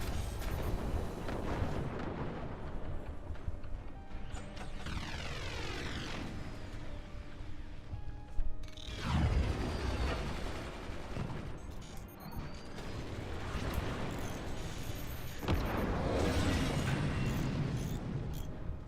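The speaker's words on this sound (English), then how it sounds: "The mortars are landing." Mortar shells landing in a video game match, a dense stream of booming explosions and sweeping whistles, continuous and fairly loud throughout with no talk.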